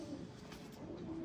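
Andhra pigeons cooing softly in a loft, a faint low murmuring coo with a little background noise, brief and close.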